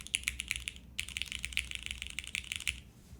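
Rapid bursts of clicky keystrokes on a TKD Cycle7 mechanical keyboard, close and crisp, with a short pause before the typing resumes at a steady, busy rhythm.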